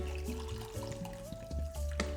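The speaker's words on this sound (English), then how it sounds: "So we'll just cover the carrots with some water" Water runs and splashes into a pot of carrots in a steady stream, close by, with light music underneath.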